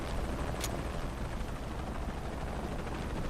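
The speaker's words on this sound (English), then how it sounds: "Always hated helicopters." Helicopter in the Shadow of the Tomb Raider video game, a dense, steady rotor roar that fills the scene, with one brief sharp crack near the start.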